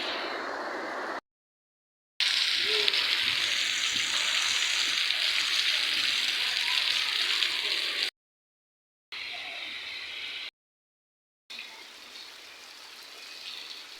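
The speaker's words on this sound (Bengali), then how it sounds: "বৃষ্টির শব্দ তো আমার কিন্তু বেশ ভালোই লাগছিল।" Heavy rain falling outdoors, a dense steady hiss of drops held at an even level, broken by a few short silent gaps.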